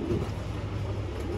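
A male pigeon coos up close, its low throaty calls repeating in a soft rolling rhythm over a steady murmur of background noise, with no voices heard anywhere in the clip.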